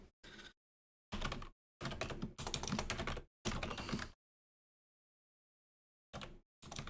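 Bursts of quick keystrokes on a computer keyboard, a few seconds of busy clicking broken by long silences, then two short bursts near the end, close and fairly quiet, with no talking.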